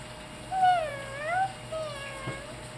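A young girl imitates a cat, giving two drawn-out, pitch-bending meows close to the microphone, the first one louder, with quiet room background.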